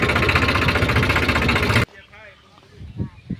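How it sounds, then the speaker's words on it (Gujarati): A farm tractor idles loudly and steadily at close range, then cuts out abruptly, leaving faint background sounds and brief noises. "જો આ ટ્રેક્ટર આપણે લઈને આવ્યા છીએ"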